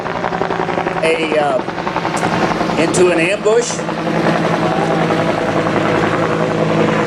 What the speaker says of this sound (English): our gunship is going to be out looking for this downed pilot